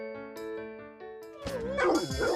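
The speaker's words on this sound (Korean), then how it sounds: "자신의 불안감을 짖음으로 표현해 경고의 메시지를 전달한다는 반려견들" Pet dog barking and yipping in short bursts, with a sustained tonal hum underneath and a louder, busier stretch of barks toward the end.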